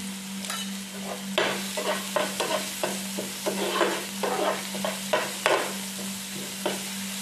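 Onion, tomato and turmeric sizzle in a pan as a base for river fish curry, with repeated scraping stir strokes in irregular bursts over a steady frying hiss; no one speaks.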